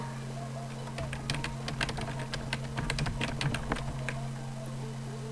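Irregular bursts of clicky keystrokes on a computer keyboard, close and fairly crisp, with short pauses between flurries and a steady hum underneath, while playing Friday Night Funkin.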